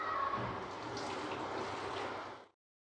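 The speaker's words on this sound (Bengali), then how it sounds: "খুব সাবধানে আস্তে আস্তে ঢালতে হবে।" Curdled milk (chhana), made with vinegar, pours steadily into a cloth-lined saucepan for homemade paneer, a continuous close watery splash that stops abruptly after about two and a half seconds.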